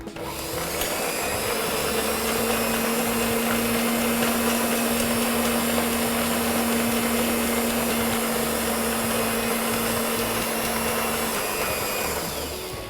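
Electric stand mixer running steadily on low speed, beating butter with icing sugar for a Christmas layer cake; a constant whirring motor hum, close and loud, uninterrupted for the whole stretch with no talking.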